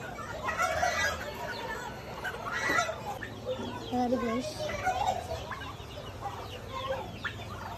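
Hens and other fowl cluck and squawk in irregular bursts at an open livestock market, fairly close, with faint voices mixed into the steady background.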